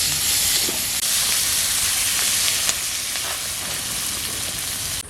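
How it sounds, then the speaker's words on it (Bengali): Sliced onions fry in hot oil in a pan after fish has been fried, giving a loud, steady sizzle and hiss that runs unbroken throughout. "মাছ ভাজা হয়ে গেছে এবার পেঁয়াজগুলোকে ভেজে নিচ্ছি"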